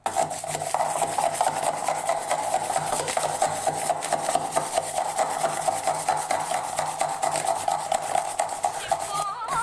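Cocoa chocolate mixture beaten fast with a hand beater, a steady continuous scraping, rasping whir that runs without pause at close range and fairly loud throughout, with no talking over it.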